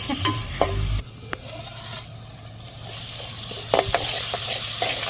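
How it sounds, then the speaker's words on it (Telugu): Curry leaves fry in oil for a dry fish curry cooked on a wood stove, with a continuous low sizzle under occasional clattering stirs and knocks of a utensil against the pan. "ఇవైతే ఫ్రై అవుతుంది కదా"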